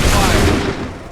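A volley of musket gunfire in Assassin's Creed 3 erupts as a dense, loud burst at once and then trails off over about a second, with shouted battlefield commands mixed in.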